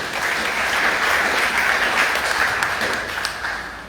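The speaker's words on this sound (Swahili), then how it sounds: "Tulipigia makofi kwa hiyo." Church congregation applauding during Sunday service announcements, a full sustained round of clapping that swells and then tapers off near the end.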